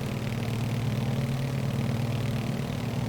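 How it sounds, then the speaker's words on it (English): A Beechcraft Model 18 radial engine in Microsoft Flight Simulator heard through an open cockpit window, a steady low thumping drone, loud and continuous with no talk. "popping open the window and listen to that engine just thumping along."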